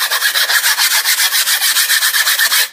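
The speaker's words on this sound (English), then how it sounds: "we just take an 80 grit sandpaper and we lightly scuff" Coarse 80-grit sandpaper lightly scuffs an RC plane wing tube in quick, steady back-and-forth strokes, a close, bright rasping rhythm with no talk.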